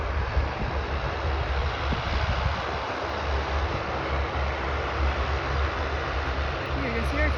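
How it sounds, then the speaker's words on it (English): Jet airliners taking off at Vancouver International Airport, a loud, continuous broadband engine roar with a deep low rumble, sustained throughout at moderate distance. "we got quite a few planes taking off before then"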